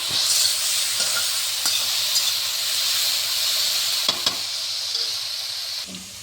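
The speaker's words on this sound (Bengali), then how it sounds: "বেগুনটা দেখুন হয়ে এসেছে, ভালো করে একটু নেড়ে চেড়ে নিলাম" Brinjal frying in oil in a pan, a steady loud sizzle and hiss with occasional soft scrapes and knocks of a spatula stirring, no voices.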